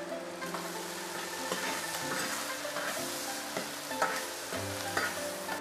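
Ginger and garlic stir-frying in a hot wok with a splash of baijiu, made for Sichuan home-style tofu: a steady close sizzle with repeated scraping and clanking of a spatula against the metal, no voices.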